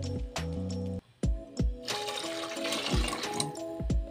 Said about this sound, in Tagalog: maglagay na tayo ng tubig